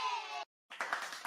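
A clapping sound effect from a soundboard: a quick run of bright hand claps begins right after a sudden cut from a previous effect, short and close.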